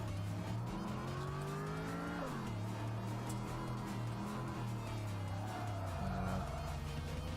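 An S14 car racing on a Japanese mountain touge road in a racing game: a steady engine drone with rising and falling revs through gear changes, overlaid by tyre squeal and skidding, continuous and close with no talk.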